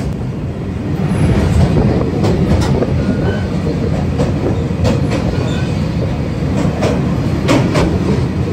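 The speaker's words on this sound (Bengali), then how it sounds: "ট্রেন আমাদের ক্রস করছে নসিপুর রেলওয়ে ব্রিজ" The Sealdah–Jalpaiguri Humsafar Express crosses the Nasipur railway bridge, rumbling steadily at close range, with a dense low roar and sharp metallic clicks and clanks recurring over the wheels.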